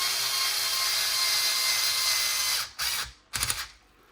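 Cordless drill on clutch setting 1 forcing a part onto an RC DR10M drag car build, a steady whirring drive that cuts off, then two short ratcheting bursts as the clutch slips.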